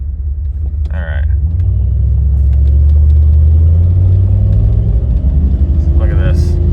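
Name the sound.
Jeep engine revving with trouble shifting gears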